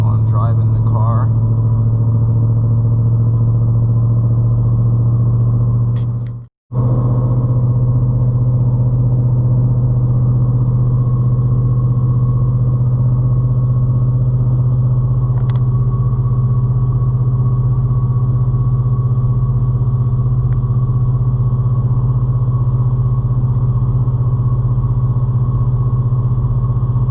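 A 1000+ whp Ford Mustang with a centrifugal supercharger, driven on the road, holds a loud, steady low engine drone that runs almost unbroken, with one brief cutout near the middle.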